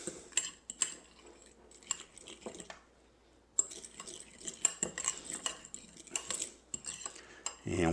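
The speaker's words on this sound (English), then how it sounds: "give it a stir up to make our remoulade" Utensil clinking and scraping against a bowl while remoulade sauce is stirred, made with pickle juice and a dash of hot sauce; close, irregular taps and scrapes with short pauses and no voices.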